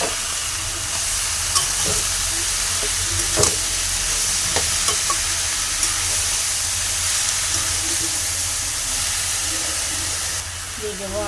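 Chopped, washed greens cooking in a pan with salt, no turmeric, giving a constant close frying hiss and steam with a few sharp spatula knocks and stirs.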